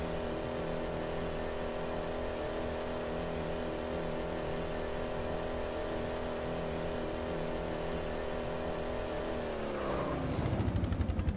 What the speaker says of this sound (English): Honestly, this car might be a little too fast.